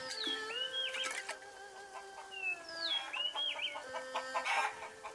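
Chickens cluck in the video game Shenmue 3, with several rising and falling squawks and short clucks in close succession, loud and near.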